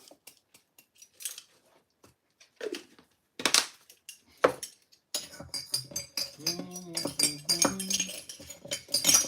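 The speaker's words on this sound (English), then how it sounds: "Give it a good mix." A spoon stirs a roughly one-gallon batch of pyment, a grape juice mead, as yeast nutrients go in, giving scattered clinks and scrapes against the vessel that grow busier and denser toward the end, with a brief voice in the background.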